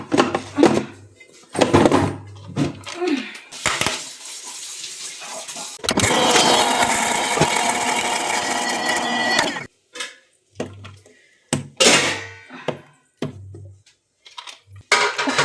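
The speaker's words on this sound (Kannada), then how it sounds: "ಮೆಂತ್ಯ ಇದ್ದರೆ ಮೆಂತ್ಯ ನೆನೆಸ್ಬಿಟ್ಟು ಇದನ್ನು ಫುಲ್ ಗ್ರೈಂಡ್ ಪೇಸ್ಟ್ ಆಗಿ ರುಬ್ಕೊತೀನಿ." A mixer grinder whirs in bursts as soaked fenugreek is ground into a full paste, short start-stop pulses framing one long loud continuous run in the middle, with no talk.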